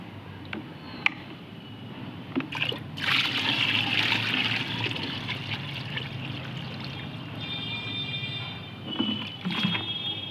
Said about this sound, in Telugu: ఈ బకెట్ నిండుగా నీళ్ళు పోసుకుందాం